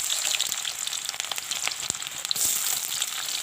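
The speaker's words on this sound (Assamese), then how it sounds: "এতিয়া কেৰাহীত তেল গৰম হৈ গৈছে মই এতিয়া ইয়াতে দিম পিঁয়াজ" Onion hits hot oil in a wok and fries with a loud, continuous sizzling crackle, close up and steady throughout, with no talking over it.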